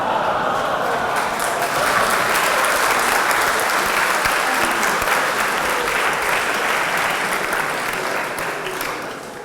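An audience at an Oxford Union debate breaks into loud, sustained applause that holds steady as a dense wash of clapping and then begins to fade toward the end.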